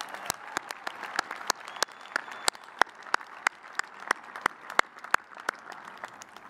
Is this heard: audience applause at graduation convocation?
yes